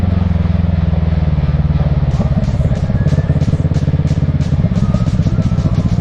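Motorcycle ridden on country roads around Montpezat-de-Quercy, France: a loud continuous engine drone at steady cruising speed with rhythmic mechanical pulsing and wind rush, close and constant throughout.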